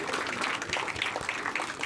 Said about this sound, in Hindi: पूरी टीम के लिए ताली बजाइए।